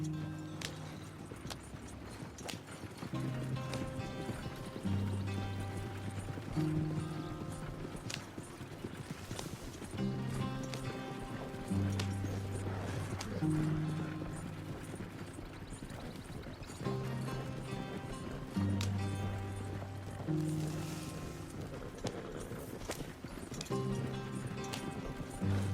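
Horse hooves galloping at a steady clip-clop rhythm in Red Dead Redemption 2, loud and continuous, with an occasional whinny, playing under tonal game music.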